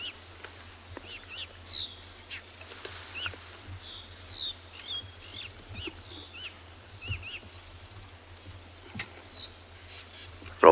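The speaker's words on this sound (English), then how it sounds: "there's some lovely evening sounds. Drongos and crickets mainly." Repeated chirping drongo calls ring out over a steady high cricket drone, scattered and moderately near in a quiet evening setting on safari.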